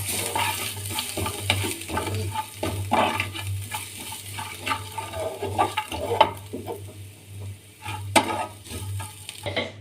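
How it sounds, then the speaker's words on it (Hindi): Spices, dried coriander and vegetables are stirred in a frying pan, with a soft sizzle under repeated spoon scrapes and clinks against the pan, close and moderately quiet, with no talk. "और अब हमने इन सब चीज़ों को अच्छे से कर लेना है मिक्स।"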